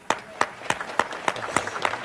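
A small audience claps at a homegoing gathering: about eight sharp, spaced claps in an uneven rhythm, fairly close and moderately loud.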